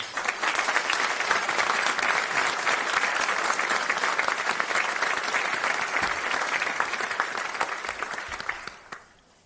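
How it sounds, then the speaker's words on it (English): A large audience at a police academy graduation claps steadily and loudly for several seconds, a dense sustained applause that fades out at the end. "Please join me in giving these individuals a well-deserved round of applause."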